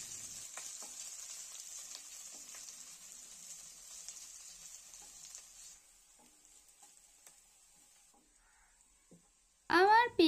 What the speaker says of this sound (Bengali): পেঁয়াজ আর কাঁচা লঙ্কাটাকে আমি একটু ব্রাউন করে ভেজে নেব।